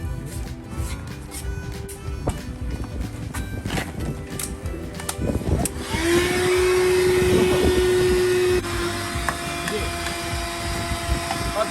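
A cordless vacuum cleaner starts up partway through and whines steadily and loudly while cleaning the trunk of a Copen, after some quieter handling knocks and bumps at close range.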